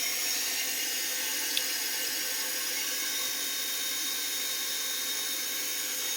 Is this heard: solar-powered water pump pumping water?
yes